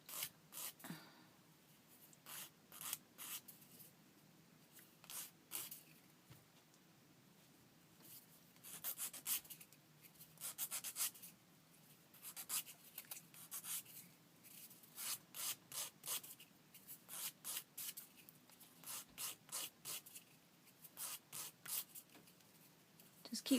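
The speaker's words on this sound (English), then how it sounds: "This one's really hard now, dried, and then I just file it." A hardened, dried paper punch bead being filed by hand: quiet, close, irregular rasping strokes that come in bursts with short pauses, and a voice speaks faintly now and then.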